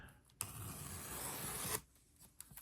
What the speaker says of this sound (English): So let's go ahead and get this box open.